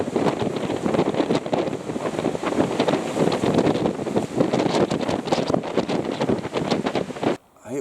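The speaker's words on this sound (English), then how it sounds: "It was the craziest wind I have ever canoed in." Strong wind howls across Rain Lake in Algonquin Park while canoeing, a loud, continuous buffeting roar on the microphone that barely lets up for the whole stretch, with no voices.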